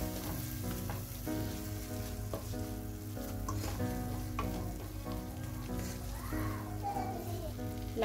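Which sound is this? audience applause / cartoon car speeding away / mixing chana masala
mixing chana masala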